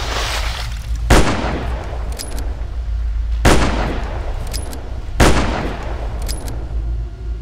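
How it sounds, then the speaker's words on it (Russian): Three loud, sharp gunshots in the Shadows Peak horror game, spaced a couple of seconds apart, each with a booming tail, over a steady low background hum. "Четыре патрона потратил."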